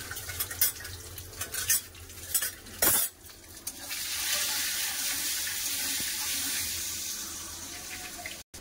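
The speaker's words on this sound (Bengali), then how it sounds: "ডিমটাকে ভালো করে ভেজে নেব।" Two eggs fry in a pan of mustard oil with salt and turmeric. A few sharp utensil clinks come first, then a steady hissing sizzle takes over, close and continuous.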